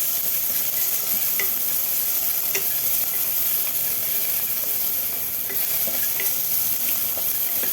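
Crushed garlic and ginger sauté with spices in a pan for mutton paya soup. A steady close hiss of frying runs throughout, with occasional light clinks of stirring and no talk.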